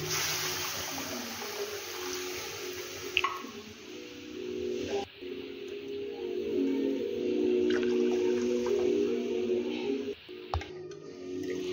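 Water poured into gram flour for pithla gives a soft, continuous trickling pour with a few small clicks and knocks of the bowl, close and fairly quiet.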